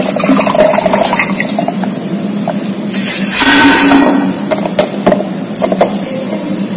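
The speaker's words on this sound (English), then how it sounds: "Now I am making the solution of this ammonium chloride with water." Water poured into ammonium chloride to make an electrolyte solution for a wet Leclanché cell, a steady splashing fill near and moderately loud with a stronger gush in the middle.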